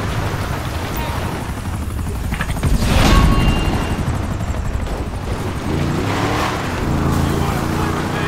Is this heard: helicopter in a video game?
yes